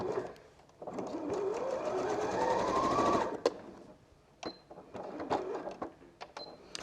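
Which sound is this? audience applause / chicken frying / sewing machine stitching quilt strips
sewing machine stitching quilt strips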